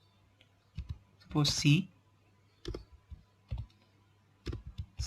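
Code is typed on a computer keyboard in short bursts of clicking keystrokes with pauses between them, while a voice speaks briefly partway through.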